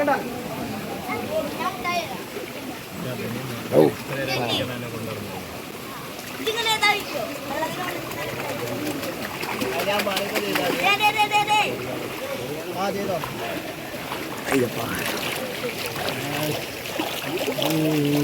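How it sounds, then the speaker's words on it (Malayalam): Children playing in a cold forest stream along a pilgrimage trail, with splashing and lively voices that carry on throughout, over a constant wash of flowing water. "കുട്ടിസ്വാമികൾ നല്ല തണുത്ത വെള്ളത്തിൽ കളിക്കുന്നു"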